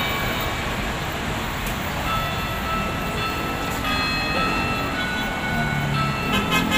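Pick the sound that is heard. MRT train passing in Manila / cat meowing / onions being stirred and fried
MRT train passing in Manila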